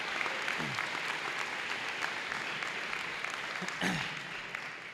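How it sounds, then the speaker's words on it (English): Applause from an audience at the Santa Fe Prep school awards assembly after a showcase, steady full-room clapping that gradually thins and softens toward the end, with no talking. "I just want to give you all a round of applause for your efforts today"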